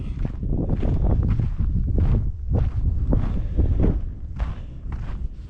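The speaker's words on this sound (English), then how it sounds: "Man, is it freezing. It's windy," Steady blustery wind in cold winter backcountry in British Columbia buffeting the microphone, with a low rumbling roar that swells and dips in gusts, no voices.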